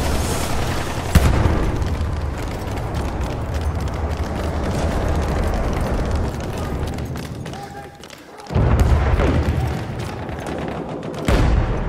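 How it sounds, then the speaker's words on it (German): Battlefield 1 combat in the Argonne Forest: sharp booming grenade blasts and scattered gunfire over a constant rumble of battle, with two heavy hits standing out near the start and late on. "Granate ist raus, Köpfe runter!"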